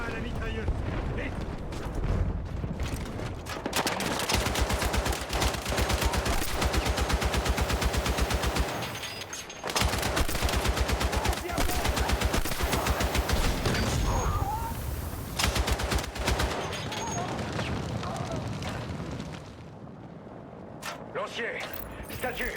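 Sustained machine-gun bursts roar from a mounted gun in a Battlefield 6 campaign battle, dense and loud almost throughout with a short break near the middle, while voices call out over the shooting.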